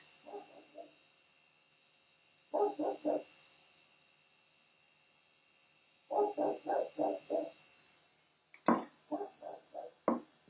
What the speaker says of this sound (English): It's one of my dogs. I think it's the new bulldog.